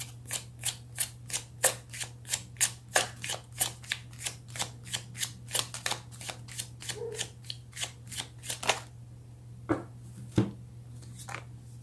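Tarot cards shuffled by hand, a steady run of crisp riffling bursts about twice a second, close and clear over a faint steady hum, trailing off into a few scattered taps.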